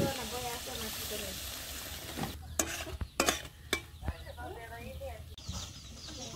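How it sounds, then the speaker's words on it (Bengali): Spice masala of cumin and coriander powder being fried and stirred in a pan for a kochur loti curry in a village kitchen, with crackling sizzle, sharp spatula scrapes and knocks, and a chicken clucking in the background. "এন্ড সব মশলা আমি ভালো করে কষিয়ে নিব এরকম করে"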